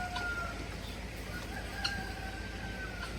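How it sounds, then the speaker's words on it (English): A guinea fowl calling outdoors on a farm, a few faint repeated high squawks carried over steady background noise. "That's a guinea."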